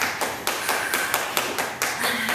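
Feet tap the floor in a steady, quick rhythm during a seated beginner chair workout, about eight light, close, crisp taps in a row.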